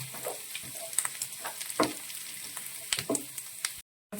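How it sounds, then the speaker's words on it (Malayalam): Ginger and garlic sizzle steadily as they sauté in a pan, with intermittent scrapes and stirring knocks throughout, ending in a brief cut to silence. "ഇഞ്ചിയും വെളുത്തുള്ളിയും ചേർത്ത് കൊടുക്കുകയാണ് നന്നായിട്ട് സോട്ട് ചെയ്ത് ഇതൊരു ഗോൾഡൻ ബ്രൗൺ ആവുന്നവരെ വഴറ്റി"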